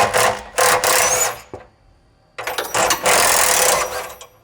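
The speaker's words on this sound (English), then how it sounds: "Go up here with your 14mm socket." Ratcheting 14mm socket wrench backing out exhaust bolts on a Polaris Ranger 1000 XP, heard as two bursts of dense metallic clicking separated by a brief pause, close and loud, with no talking.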